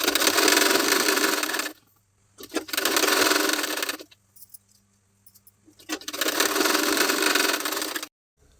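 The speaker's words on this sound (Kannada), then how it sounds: "ಈ ರೀತಿ ಸ್ಲೀವ್ಸ್ನ ನೀಟಾಗಿ ಇಟ್ಕೊಂಡು ಕೆಳಗಡೆ ಬಾರ್ಡರ್ ಹತ್ರ ಸ್ಟಿಚ್ ಮಾಡ್ತಾ ಇದ್ದೀನಿ." A sewing machine stitching along the lower border of a sleeve runs in three loud, close bursts, with short pauses and light clicks between them.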